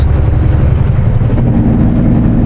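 A loud, rumbling diesel semi truck engine drones steadily, deep and close, with a constant heavy exhaust roar throughout while hauling a load.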